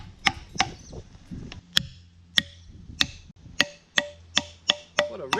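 Loud, ringing metallic strikes on a wedge splitting a log for tool handle blanks, about ten sharp blows in steady rhythm, each with a bright lingering ring, close up with no talk.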